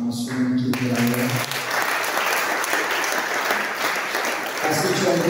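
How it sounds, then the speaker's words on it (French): A church congregation breaks into loud, dense applause and acclamations, a steady wash of many hands clapping that begins after a brief moment of speech and continues strongly to the end. "encourage ton frère par des acclamations"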